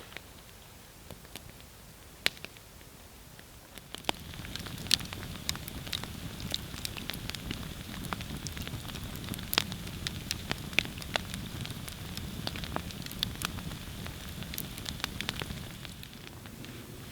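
An outdoor campfire at night during cold-weather van camping crackles and pops, with sharp snaps scattered over a soft steady hiss that thickens after the first few seconds, and no voices.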